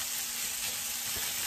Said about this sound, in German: Ich lasse das jetzt so ein bisschen anbraten, nur ganz leicht, weil es soll ja auch schnell gehen.